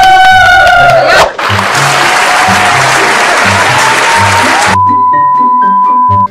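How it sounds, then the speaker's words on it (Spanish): Applause from a crowd at an outdoor celebration in El Salvador, loud continuous clapping heard beneath loud music with a steady bass beat, cutting off abruptly near the end. "un aplauso."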